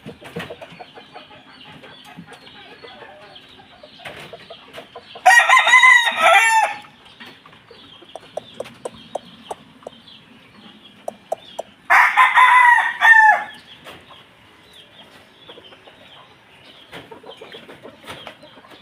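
Chickens in a coop give two loud rooster crows several seconds apart, with scattered soft clucking and pecking sounds between them, close by and without talk.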